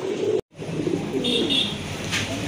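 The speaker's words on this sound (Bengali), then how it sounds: "আরেক জোড়া কবুতর, অনেক বড় সাইজের কবুতর" Large pigeons of a quality breeding stock, including a red checker, give soft low cooing at close range, with a brief dropout near the start and faint chirps later, no voices.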